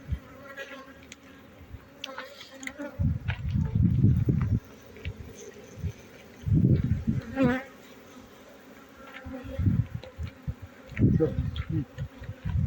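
Honey bees buzzing around beehives full of honey, a close steady drone that swells in louder passes as insects fly near, with faint talk in the background.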